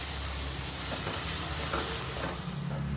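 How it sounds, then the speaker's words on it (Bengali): Finely chopped onions fry in a pan as they brown, giving a continuous close sizzle and crackle with some low rumbling and light stirring movement. "এটাও একটু বাদামি করে ভেজে নেব।"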